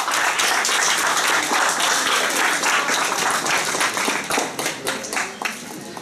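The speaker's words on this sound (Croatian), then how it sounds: "Pozdravimo ih aplauzom." Audience applause greeting university professors at a Serbian gathering, many hands clapping in a full, steady burst that thins out and tapers toward the end.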